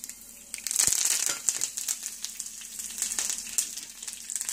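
Dried red chillies and curry leaves spluttering in hot oil for a Kerala drumstick and mango curry, a close crackling sizzle that surges after a sharp drop-in and keeps popping irregularly.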